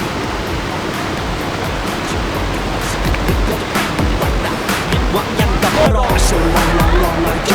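Steady, loud broadband rush of water at Mae Pun waterfall in a lush forest setting, a continuous roar with faint crackles, with no voices over it.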